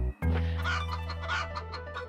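A chicken clucks repeatedly in the PlayStation game Alundra, a series of short, fairly close bursts over a steady low game drone, with no voices.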